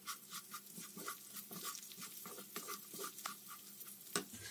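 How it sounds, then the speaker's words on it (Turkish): Rice with spices being stirred in a pot, a run of soft scraping and rustling strokes in an irregular rhythm, close up and fairly quiet, with a light sizzle underneath. "Şöyle bir karıştırıyorum."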